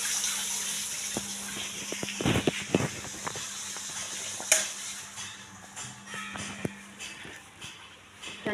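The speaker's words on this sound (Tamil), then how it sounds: "நீர்மூழ்கி மோட்டர் தண்ணி ஃபாஸ்டா வரும்." Water from a tap fed by a submersible motor pump rushes out in a steady stream, with clattering splashes and a few sharp knocks at close range.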